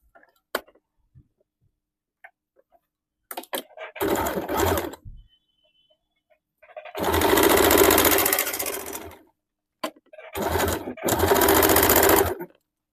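A sewing machine stitches blouse fabric in several bursts of whirring, two of them long and steady and others brief, separated by silent pauses and faint clicks.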